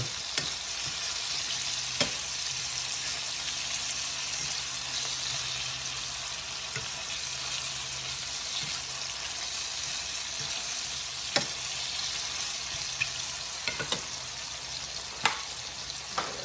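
Ginger and scotch bonnet pepper sauté in hot oil with a steady, close, even sizzle that runs unbroken throughout, marked now and then by sharp clicks of a utensil against the pan.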